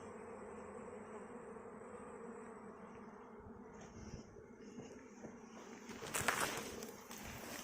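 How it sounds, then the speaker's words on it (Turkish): A soft, continuous buzzing of many bees entering and leaving a hive drones close by, with a brief louder rustle and flutter near the end. "Girip çıkmaya başladı arı."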